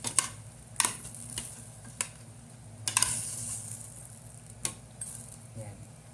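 Eggs and potatoes go into a pan of chicken adobo, with intermittent metallic clinks of a utensil against the pan over a soft sizzle, a handful of sharp taps spaced irregularly, close up.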